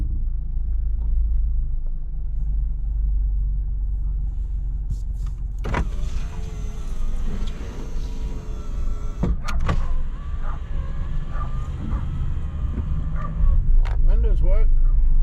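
Power windows of a 2000 Subaru Impreza whirring up and down inside the car, with several motor runs over a low engine rumble and a few clunks, plus brief talking.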